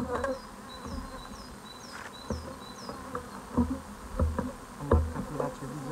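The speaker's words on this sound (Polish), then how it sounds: "Ma dzisiaj bardzo przyjemne pszczółki." Honeybees buzz steadily at an open hive during a spring inspection, a close, continuous drone with soft knocks and handling noises from the frames.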